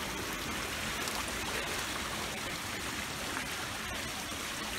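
Water spilling over the top of the inflows of an outdoor trout pond in January, a steady broadband rushing and splashing that continues evenly throughout with no pauses.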